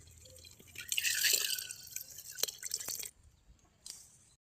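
Boiled and cooled milk is poured into a village-style paal payasam sweetened with sugar, giving a close, soft liquid splash and trickle that swells, then tapers into a few drips.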